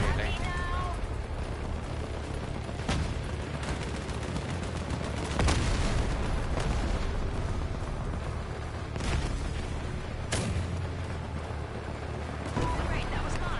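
Cannon fire in the vehicle-combat game Crossout: several heavy booms burst out at irregular intervals over a constant wash of loud battle noise.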